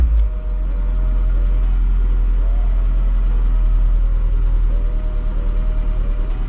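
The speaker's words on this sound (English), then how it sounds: "what I'm going to do is start up the car to flush the oil around" A 2008 Renault Clio 3 engine runs at a steady idle just after being started for a full service, a low continuous drone that holds close and even for the whole stretch with no talking.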